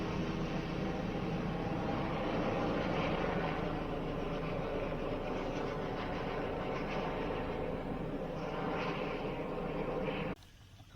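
Black Hawk helicopter flying over a farm's lower field during a wood delivery, with three men hanging onto it; a loud, steady rotor and engine roar runs continuously, then cuts off abruptly near the end.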